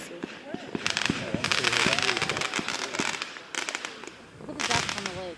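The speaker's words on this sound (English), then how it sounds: "The fireworks are on right now." Fireworks burst outdoors on a July night, a run of close popping cracks and crackling volleys in irregular clusters, with people talking over the bangs.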